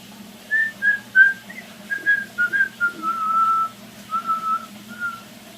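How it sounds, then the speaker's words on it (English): A person whistles a short, wandering tune of brief notes and a few held tones, fairly soft and close, with no other sounds. "Can you whistle?"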